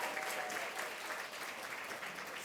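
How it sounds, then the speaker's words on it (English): An audience at a 40th anniversary gala celebration for a workers' group gives a dense, sustained round of applause, steady and fairly distant from start to finish with no clear voices on top. "thank you for that round of applause for Judy."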